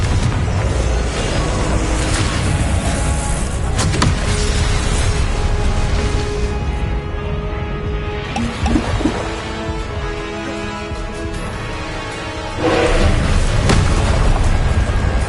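Confringo fire spells bursting in Hogwarts combat, a continuous loud wash of booming blasts and rumbling with sharp cracks layered through the whole stretch.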